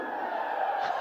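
A basketball crowd at a Las Vegas WNBA game cheers and whoops in a steady, moderately loud roar for a brief moment.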